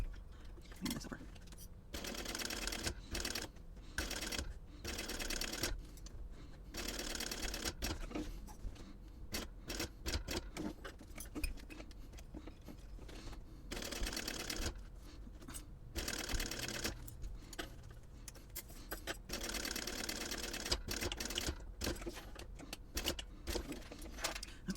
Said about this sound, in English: if you think that your machine may have difficulty going over this seam, you can reduce the bulk on your seam allowances before you do that stitching